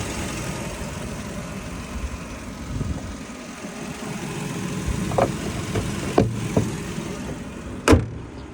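A 2007 Volkswagen Cross Golf with a 1.6 MPI petrol engine idles steadily at a moderate distance, a low even hum broken by a few short knocks and one louder clunk near the end.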